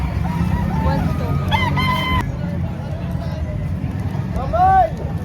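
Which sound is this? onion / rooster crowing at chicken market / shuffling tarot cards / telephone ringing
rooster crowing at chicken market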